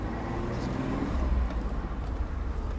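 An Alfa Romeo 2600 Touring drives along, its engine running steadily in first gear. The motor gives a continuous dense rumble with road and wind noise, close and loud throughout.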